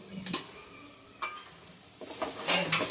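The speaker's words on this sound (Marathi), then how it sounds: "पुन्हा मिश्रण करायचं आहे पुन्हा ढगून घ्यायचं सगळं व्यवस्थित" Mutton with spices being stirred in a pot, with several distinct scraping clinks of a utensil against metal between quieter moments of low sizzling, close by with no talking.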